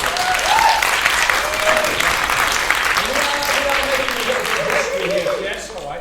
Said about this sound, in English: So can we just give a little clap for the Oldham Coliseum